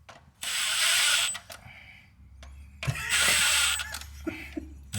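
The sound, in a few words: ratchet tightening bolts during a clutch job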